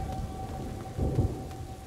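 Thunderstorm with steady rain in the video game A Plague Tale: Innocence, a constant wash of rainfall with a low rumble of thunder swelling midway, no talk.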